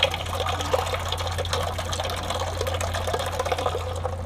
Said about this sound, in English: So I'm gonna throw this whole beer in there.